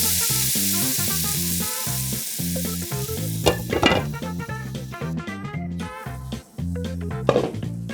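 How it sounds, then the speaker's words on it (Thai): A garlic cheese sandwich toasts in a pan over medium-low heat. A soft, steady sizzle runs beneath prominent rhythmic background music, with a few faint clinks. "นำไปย่างในกระทะด้วยไฟกลางค่อนข้างอ่อน"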